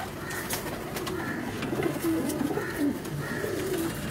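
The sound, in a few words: pigeons cooing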